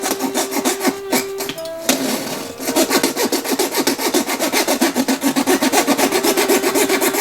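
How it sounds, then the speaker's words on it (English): A fine-bladed jeweler's saw cuts through model railway rail in quick, rhythmic back-and-forth strokes, a close, bright rasping that holds an even pace throughout. "The best device I've found for cutting through the rail is the jeweler's saw."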